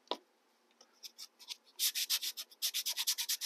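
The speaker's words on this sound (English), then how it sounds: "rolling the sanding block over the edge to round that corner off" Hand-held sanding block rubbed over the edge of a wooden piece to round a corner, close and dry. A few sparse scrapes open, then a fast run of rhythmic back-and-forth strokes grows louder, alone without talk.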